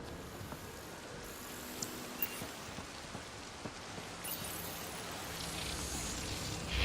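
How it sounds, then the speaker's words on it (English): Steady rain in Mass Effect Andromeda falls in a dense, even hiss, with occasional soft taps of drops landing nearby. "It's raining. How is it raining?"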